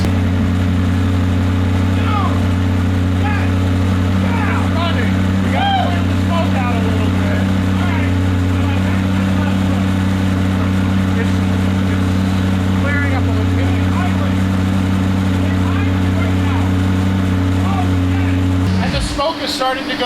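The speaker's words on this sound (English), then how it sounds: "Dude, it's idling. It's idling right now." A wrecked McLaren 675LT engine idles right after its first start, giving a loud, steady droning hum. Excited voices talk over it throughout, and the engine cuts out abruptly near the end.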